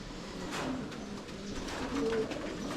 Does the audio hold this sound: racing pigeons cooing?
yes